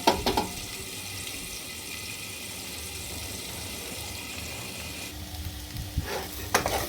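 Potatoes sizzle steadily in hot oil for a pumpkin and potato curry, a constant moderate frying hiss with a few brief clinks of a utensil near the start and end.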